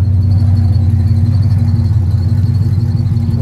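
A stock Chevrolet Camaro SS with a 6.0 V8 runs close by on a cold day, giving a steady, deep, lumpy rumble at idle with an even throbbing pulse.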